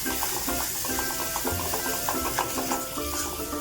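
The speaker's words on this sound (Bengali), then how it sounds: "মশলাটাকে ভালো করে আমরা কষিয়ে নিচ্ছি।" Spice paste for Bengali katla kalia is worked around a pan in repeated quick scraping strokes, a soft, rhythmic clatter over a faint sizzle.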